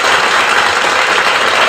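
An audience applauds for Grace during a basketball stream, a dense, loud, steady wash of clapping with no break.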